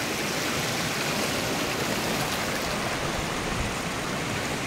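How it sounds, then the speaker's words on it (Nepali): A river stream flows in a constant, full rush of water, loud and close with no pauses, running on its own without voices. "दामी रहेछ खोला पनि हो, मन पर्यो मलाई।"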